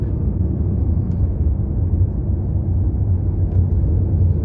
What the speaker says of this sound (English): The engine noise is cool, but it's fake